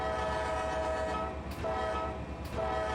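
Diesel train horn blasting at a railroad crossing in Run8 Train Simulator V3 on the CSX A-Line, two long sustained tones over a steady rumbling locomotive engine, no talking.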